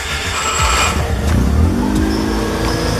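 A Mazda RX7 FD3S rotary engine fires up with a loud cranking burst, then settles into a steady, busy running note close by.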